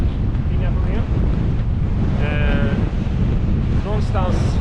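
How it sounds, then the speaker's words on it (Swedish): Strong wind, about 10-11 metres per second, roars over a sailboat moored to a buoy, a loud constant gusty rush with buffeting on the microphone, and someone speaks Swedish over it. "Någonstans 10-11 sekundmeter blåser det."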